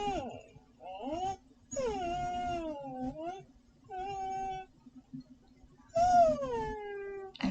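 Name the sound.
dog or pet whining noises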